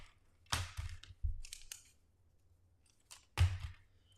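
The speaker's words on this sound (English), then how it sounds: "I can snip off some of these ends." Scissors snip off the ends of a paper card during handmade Stampin' Up! cardmaking, with a few short crisp cuts clustered early and another pair near the end, close and fairly quiet with a silent gap between.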